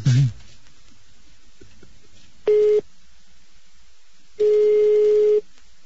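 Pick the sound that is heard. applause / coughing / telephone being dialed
telephone being dialed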